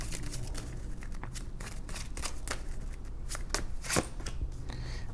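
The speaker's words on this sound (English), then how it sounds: "Let's pull the rest of these cards here" Tarot cards shuffled and drawn from a deck, a steady run of riffling, slapping card sounds close by with a sharper snap near the end, no voices.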